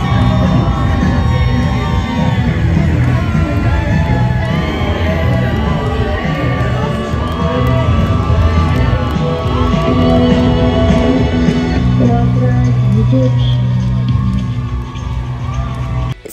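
Spectators cheering along Glastonbury High Street during a carnival procession, with loud, sustained crowd noise and occasional whoops and yells over the steady drone of a slow-moving vehicle's engine.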